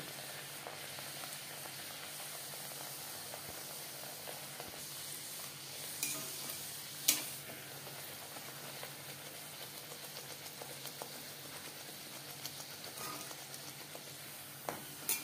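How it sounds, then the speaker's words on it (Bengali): Rolled luchi, a puffed Bengali flatbread, frying in plenty of hot refined oil, giving a steady close sizzle with faint bubbling and a few sharp clinks and stirring knocks toward the end. "বেশ খানিকটা রিফাইন্ড অয়েল গরম করে নিয়েছি। এবার দিয়ে দিলাম বেলে রাখা লুচি।"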